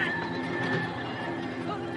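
A horse neighs amid a busy dramatic soundtrack as a rider approaches on horseback, the whinny blended with dense background sound rather than standing alone.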